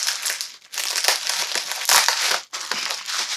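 Clear bubble wrap covered in tape is handled while unpacking, giving loud, continuous close-up crinkling and crushing of plastic with a few brief pauses.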